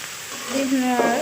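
Chopped garlic with salt, cumin seeds and turmeric sizzles in a hot pan, a brief close frying hiss with a voice briefly sounding over it.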